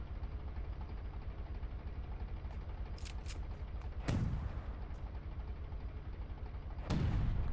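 Rocket launcher blasts in the VR game Webshooters VR: two sharp, loud booms about three seconds apart, each with a short decaying tail, over a steady rumbling game background with a few faint high clicks.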